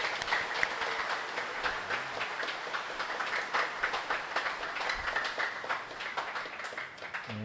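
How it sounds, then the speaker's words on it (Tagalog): Church congregation clapping during Sunday Mass, loud sustained applause from many hands filling the room, fairly close and continuous with no talk over it. "itaas nga ang kamay at pumalakpak ng mas malakas"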